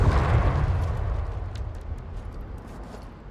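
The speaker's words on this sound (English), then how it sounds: "Run for your life! The sky is exploding!" A deep, roaring blast rumbles overhead in the video game Satisfactory as the sky explodes, loud at first and then slowly fading out over a few seconds.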